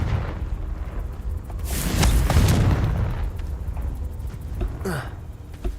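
A Confringo fire spell bursting in Hogwarts Legacy gameplay, a loud rumbling explosion swelling and fading over a few seconds, followed by smaller crackling bursts, with a faint voice in the background.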